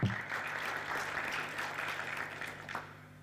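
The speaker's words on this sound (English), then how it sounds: "I think that clap was for the immediate speaker." Sustained audience applause at a research dissemination forum, a dense wash of many hands clapping at steady volume for several seconds before thinning slightly toward the end.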